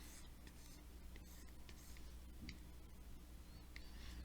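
A pen scratches out parabolas by hand on paper, short strokes and taps repeating close by against a steady quiet background hum.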